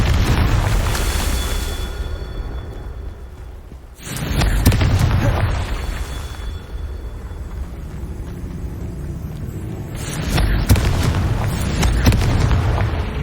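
Confringo blast spells in Hogwarts Legacy go off as deep booming explosions, three heavy bursts spaced a few seconds apart, each followed by a rumbling tail.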